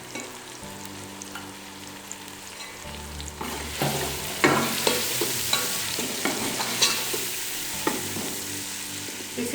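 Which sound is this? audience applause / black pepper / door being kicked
black pepper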